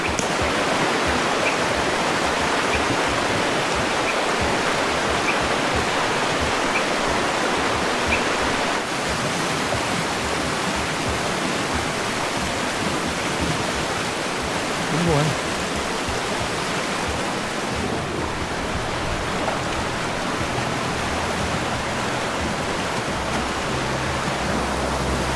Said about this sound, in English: It's nice to see these streams full.